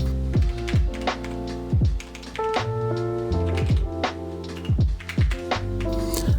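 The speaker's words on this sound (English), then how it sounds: "I settled with a Keychron 4 wireless mechanical keyboard." A Keychron K4 wireless mechanical keyboard is typed on, producing close, steady clacking keystrokes in an irregular rhythm alongside a low hum.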